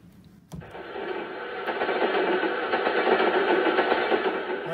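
Passing train effect played on a Kawai DG-30 digital grand piano: after a brief click, a dense rumbling, clattering roar sets in and holds steady and loud for several seconds, with nothing else heard.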